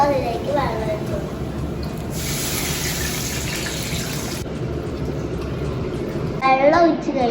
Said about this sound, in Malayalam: അപ്പൊ നമുക്ക് അതിലേക്ക് വെള്ളം ഒഴിച്ചു കൊടുക്കാം